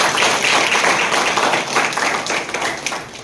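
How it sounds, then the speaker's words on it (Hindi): Loud, dense applause from guests at a Christian wedding ceremony, many hands clapping steadily and close by for several seconds before thinning slightly at the end. "एक जोरदार ताली बजाकर"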